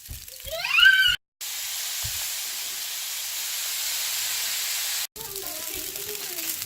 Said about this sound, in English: Now we're going to go add our soy sauce.